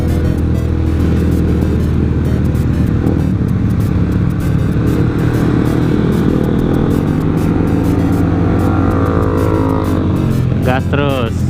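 Honda CBR 150R type K45R 2023 motorcycle with about 15,000 km, engine droning steadily while riding in city traffic, loud and continuous with wind rush, a rider talking over it throughout.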